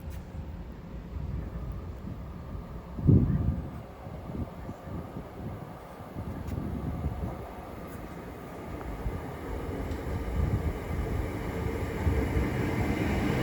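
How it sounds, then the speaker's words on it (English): An Avanti West Coast train from London Euston to Crewe arrives at Watford Junction on the West Coast Main Line, a low, rumbling roar rising and falling at a distance, with a brief louder knock early on. "Soon to arrive in now, 12 minutes late, will be the 1731 Avanti West Coast service from London Euston to Crewe"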